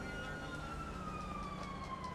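A police siren in the video game GTA 5 wails steadily at a distance, its tone gliding slowly downward over constant background noise.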